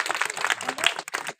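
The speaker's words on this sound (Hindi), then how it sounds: "ताली बजा दो।" Close, dense clapping from a crowd watching a street play, a brief burst of rapid hand claps that cuts off sharply.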